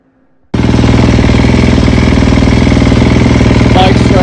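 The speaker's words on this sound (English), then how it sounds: "Bike started up good." A 2021 Sherco 300 SEF motorcycle engine fires up abruptly after a moment of quiet, then settles into a loud, close, rapid, steady idle rattle.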